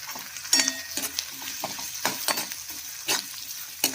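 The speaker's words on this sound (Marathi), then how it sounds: "लसूण थोडंसं फ्राय झालं की त्याच्यात आपण कांदा टाकायचा आहे. कांदा आता जरा फ्राय करून झाला की आपण त्याच्यात कैरी टाकूया." Onion and garlic fry in a pan for a Goan fish curry made with raw mango, giving a steady close sizzle broken by irregular scraping stirs, with no voices.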